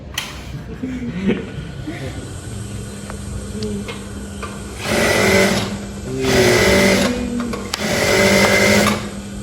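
Sewing machine run up in a shop where sewing machines are on display, three loud bursts of whirring starting about halfway through, with people talking before and between them.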